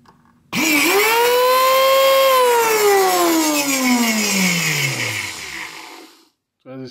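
Freshly rewound universal AC series motor spinning up with a sharp whine that rises, then slowly winds down in pitch as it coasts, loud and alone, followed by a short pause and a brief restart at the end.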